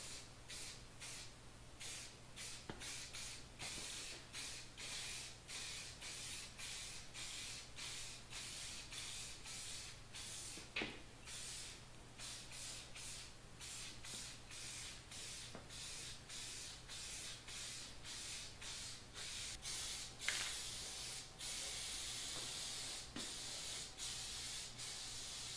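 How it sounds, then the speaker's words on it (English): Primer being sprayed onto the back of a car body panel, a soft continuous hiss broken by short regular bursts and pauses, faint and close, with no talking. "I'm just going to throw a coat of primer on the back of this thing"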